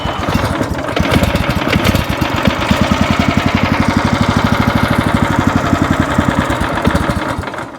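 Echo SC-3013 wood chipper's small engine running steadily up close, a loud rapid chugging pulse that holds through the whole stretch with no talk.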